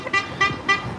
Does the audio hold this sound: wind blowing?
no